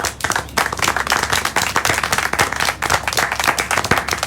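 Applause from the video game Syberia: The World Before, a brisk run of hand claps that keeps going at close range without a break.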